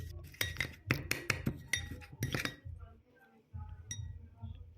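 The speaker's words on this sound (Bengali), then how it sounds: "1/4 কাপ মতনই গুড় যোগ করে মিশিয়ে নিতে হবে একটু নেড়ে" A spoon scrapes and clinks rhythmically against a bowl while ghee, oil and jaggery are stirred together, with a brief pause before a few more taps, close and clear.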